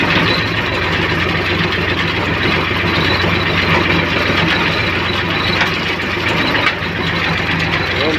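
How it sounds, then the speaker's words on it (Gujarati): A tractor engine runs close by on a farm with an ajwain crop, giving a steady, loud, rumbling drone that holds throughout with no voices. "ટ્રેક્ટર પલટી મારી એટલું આપણે લઈ લીધું છે."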